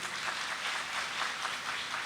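An audience at a ceremonial nursing-week academy event claps continuously, a dense, even wash of many hands at moderate distance with no talking over it.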